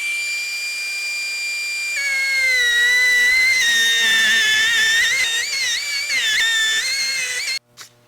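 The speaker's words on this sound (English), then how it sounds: "The tool we're going to be using for this is one of these pneumatic bevelers." A pneumatic beveler cuts bevels into the edges of a steel welding table plate, giving a loud, sustained high-pitched whine with shifting tones that runs for several seconds before stopping abruptly.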